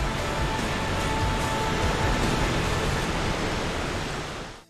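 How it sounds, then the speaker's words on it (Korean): A waterfall in South Africa roars steadily, a dense broadband rush of falling water that holds even and loud before fading out at the very end, with no voices. "아득히 울려 퍼지는 폭포 소리를 듣고 있으니"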